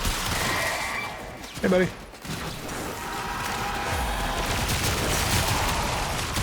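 Incarnon Prisma Angstrum weapon firing in Warframe: a dense stream of thin, zappy shots and mechanical clatter runs nearly throughout, fairly loud, with a brief louder burst early on and a short spoken greeting over it.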